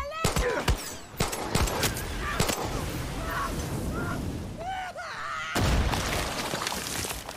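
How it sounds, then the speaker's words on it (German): Video game explosions and rapid gunfire-like bursts, sharp booming hits scattered over seven seconds with a dense crackling stretch in the middle, mixed with game sound effects. "Da muss man doch nicht direkt explodieren"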